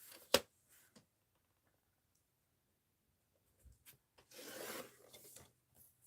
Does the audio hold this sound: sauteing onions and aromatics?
no